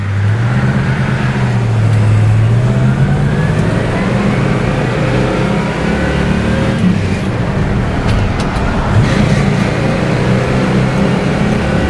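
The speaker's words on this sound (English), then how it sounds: "Oh, the sound of that V8" A 1971 Pontiac Grand Prix V8 with a 4-speed runs with a deep, throaty drone that rises and falls as it accelerates, steady and close throughout.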